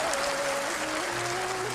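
An audience in a hall applauds, a dense, steady wash of clapping with no breaks, fairly loud and alone.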